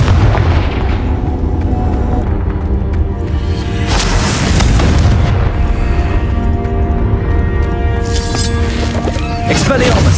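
Explosive Confringo spell blasts in Hogwarts Legacy, loud booming impacts over a dense, continuous bed of game combat noise and music lasting throughout.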